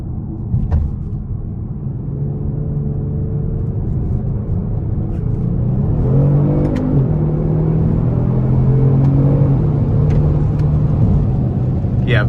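A 2021 Kia Stinger GT with a 3.3 twin-turbo V6 and all-wheel drive hums from inside the cabin as engine tones rise and shift through gears under a steady road rumble.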